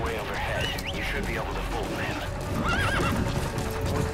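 Repeated horse whinnies in the video game Metal Gear Solid V: The Phantom Pain, with rising and falling squeals over hoof clops and background noise, with a person talking at times.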